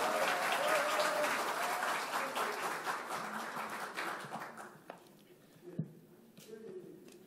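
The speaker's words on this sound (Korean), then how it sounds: "뜨거운 박수 부탁드립니다." Audience applause at a Democratic Party leadership candidates' joint campaign rally in Jeju: a dense wash of clapping that gradually thins and fades over several seconds, leaving a few scattered claps in near quiet.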